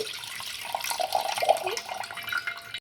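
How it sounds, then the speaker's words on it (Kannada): Water pours into a pot for boiling pasta, a close, moderately loud running splash with small gurgles lasting a few seconds, with no voices. "ಸೊ ಇವಾಗ ವಾಟರ್ ಹಾಕ್ತಿದ್ದೀವಿ"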